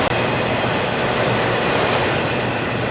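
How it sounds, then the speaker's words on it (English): A train rumbles past at close range, a steady loud roar of rolling wheels and rail noise without a break. "that's the last car in the train going by there"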